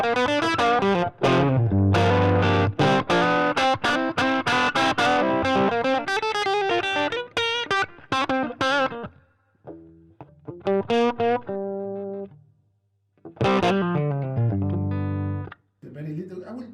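An electric guitar plays distorted riffs and single notes through a Fender '68 Custom Vibro Champ tube amp with reverb around 2–3, with noticeable reverb, sounding loud and close, with pauses between phrases.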